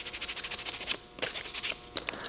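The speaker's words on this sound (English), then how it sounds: "After you're done with the sanding" Close hand sanding: quick, rhythmic rasping strokes, a brief pause, then a few more scratchy passes.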